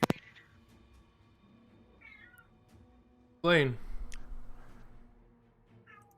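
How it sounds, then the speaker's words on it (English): A cat meows close to the microphone during an online voice chat, a short cry near the start and a louder, longer meow in the middle, with people talking around it. "You can hear the cat"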